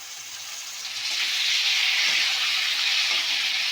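Curry masala with turmeric sautés in oil for a rohu fish curry, a loud, close hissing sizzle that swells after the first second and holds steady, without speech.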